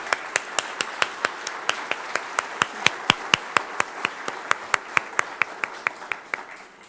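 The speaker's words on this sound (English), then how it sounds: "let's give yourselves a round of applause" Steady rhythmic clapping at an outdoor ribbon cutting ceremony, crisp evenly spaced claps repeating in a regular beat, fairly close and moderately loud.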